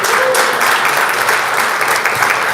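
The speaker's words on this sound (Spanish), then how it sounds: "si ese aplauso es para alguien" A church congregation applauds, a dense, loud, steady wash of clapping from many hands filling the whole moment without any pause.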